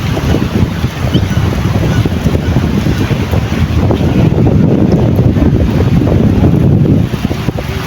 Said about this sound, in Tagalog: Ang lakas po ng pagaspas ng hangin.